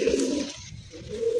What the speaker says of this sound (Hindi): ये प्यारे प्यारे से कबूतर चहचहा रहे हैं।